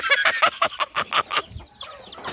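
Chickens clucking nearby on a farm, a quick run of sharp, close clucks in a stuttering rhythm, then quieter scattered calls.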